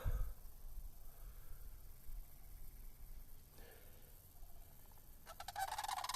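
Cranes call by a river on a farm walk, giving a few distant honking, trumpeting cries amid faint outdoor wind and background noise, with a louder burst of calls near the end.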